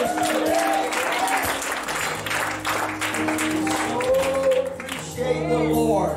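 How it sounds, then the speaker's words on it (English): A church congregation claps in praise, with dense, sustained applause under sustained musical tones and some voices throughout. "Can somebody clap your hands and praise him?"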